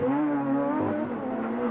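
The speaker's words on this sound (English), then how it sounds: "Now Rowe was the man with a mission, and the Puma was on the limit and beyond in his bid to beat the Peugeot." A Ford Puma rally car at the 2001 Rally of Wirral, driven on the limit, roars past with a strained, high-revving engine note that drops in pitch partway through, loud and continuous with no talk.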